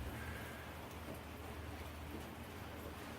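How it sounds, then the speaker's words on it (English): Steady drizzling rain on a cold, gray Pacific Northwest day at a house framing and roofing site, a constant soft hiss and patter with a low rumble beneath, even and unbroken from start to end. "It's been drizzling all day long."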